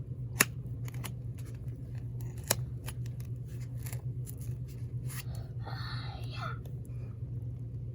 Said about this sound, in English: We're gonna cut that piece off.